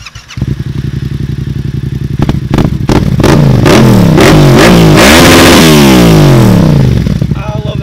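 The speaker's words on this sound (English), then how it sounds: "And a quick rev bomb for y'all." A Yamaha FZ-07 motorcycle engine idles close by, then is revved hard in repeated rising and falling bursts, loud and raw before settling back toward idle.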